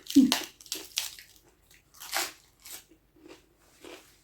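Someone eats food with crisp, close crunching bites in an uneven rhythm, loud at first and then softer, with someone talking between mouthfuls.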